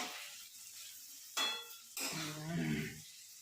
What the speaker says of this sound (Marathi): बटाटा आता मस्त फ्राय करायला टाकलेला आहे